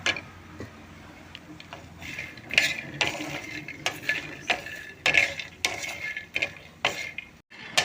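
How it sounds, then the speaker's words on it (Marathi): Fox nuts (makhana) roasting in ghee in a pan as a spoon stirs them, giving a run of close scraping clicks and rattles with a soft sizzle under them, and no voices. "तर आता आपले हे मकाणे परतून झालेले आहेत"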